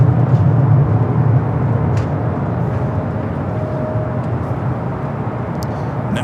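Boeing 767 starting to taxi at LAX, turning onto a taxiway, a continuous low engine rumble and roar at some distance with a faint steady whine, with no talk over it.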